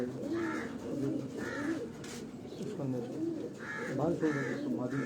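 Golden pigeons coo on a Karachi rooftop, repeated soft throaty coos close by in a loose rhythm, with someone talking over and between the calls.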